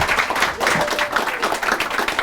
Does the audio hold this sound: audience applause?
yes